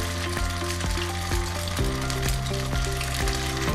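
Ghewar batter dribbled drop by drop into hot ghee, giving a loud, dense, continuous sizzle and bubbling up close, with short crackling bursts as more batter goes in and a steady tonal hum underneath.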